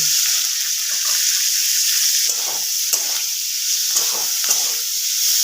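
Chopped onion hits a hot pan for dalia porridge and sizzles loudly in a steady, close hiss, with a few soft stirring scrapes and spatters throughout.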